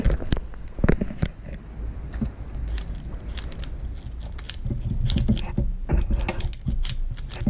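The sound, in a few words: RC car differential gears spinning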